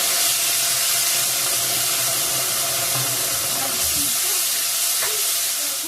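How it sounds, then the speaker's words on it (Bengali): Pieces of paneer fry in hot oil, giving a dense, steady sizzling hiss that stays loud and unbroken throughout, with faint clinks underneath. "তখন পনিরটা ভেজে নামিয়ে রাখছি"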